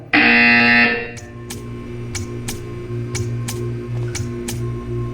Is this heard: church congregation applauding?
no